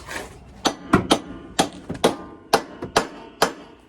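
Sharp metallic hammer blows ring out one after another, about ten hard strikes at an irregular pace, close and loud, a hammer smashing against a ball joint on a Honda Integra.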